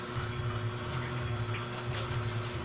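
Water runs steadily into a container, a continuous watery rush with a low pump-like hum underneath, close and moderately loud without pause.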